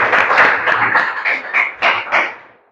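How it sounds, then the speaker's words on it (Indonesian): Classroom audience clapping together in a teaching session, a dense burst of many hands with uneven pulses that fades out toward the end. "Kita berikan tepuk tangan dulu."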